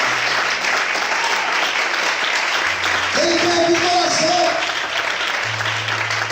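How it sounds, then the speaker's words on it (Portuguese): A church congregation keeps up a dense, steady round of applause in worship, many hands clapping continuously while a voice speaks over it midway and a low held tone sounds beneath. "Aplauda o Senhor, então."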